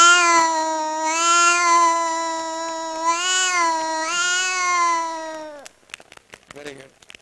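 A child mimics two cats fighting, voicing long, wavering yowls and caterwauls that rise and fall loudly for several seconds before breaking off into a few short, softer vocal sounds.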